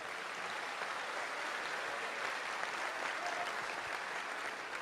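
A church congregation applauds for a pastor, a steady, even wash of clapping filling the room for the whole stretch at moderate volume, with no voices standing out.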